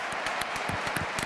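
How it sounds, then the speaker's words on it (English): A stadium crowd at a Barcelona vs Mallorca La Liga match applauds substituted players, with dense steady clapping from a large distant crowd. "Ansu, ovation for him, and Dani Olmo too out"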